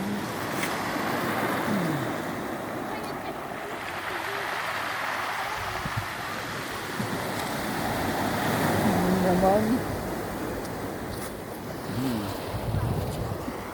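Strong ocean waves crash and wash in a continuous loud surge, with heavy wind buffeting the microphone and occasional faint sounds in the background.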